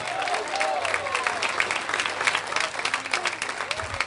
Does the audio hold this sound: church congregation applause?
yes